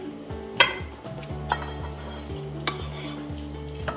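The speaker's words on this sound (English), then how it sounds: "I'm going to add the sauce to the potatoes and give them a really good stir" Potatoes are stirred through an anchovy and cream sauce in a pot, with a spoon knocking and scraping the sides in irregular clinks over a soft background hum, close up and with no voices.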